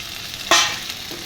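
Tomatoes dropped into a pan of frying chillies and okra, one sharp hiss swelling and fading within a second, with a smaller sizzle after it, close and fairly quiet.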